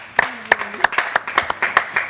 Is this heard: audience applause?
yes